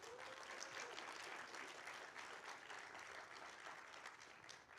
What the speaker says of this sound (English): give a round of applause for the wonderful sponsors that made SquiggleConf happen